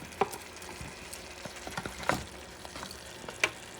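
Spoon stirring beef neck bone sancocho stew in a pot, a few distinct clinks and scrapes over a quiet simmering bubble, close and sparse.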